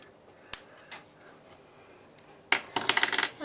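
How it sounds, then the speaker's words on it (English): Scissors cut through a length of striped grosgrain ribbon for a scrapbooking page, giving one sharp snip early on, then a quick burst of several crisp snips and rustles near the end, close by with no talk. "What we're going to do is we're going to cut off about 6 inches."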